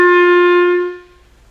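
A single held note on a reed instrument rings clear and loud, then fades out over about a second as the player stops blowing, leaving near silence.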